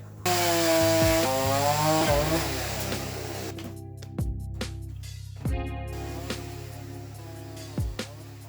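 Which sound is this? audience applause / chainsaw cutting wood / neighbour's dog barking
chainsaw cutting wood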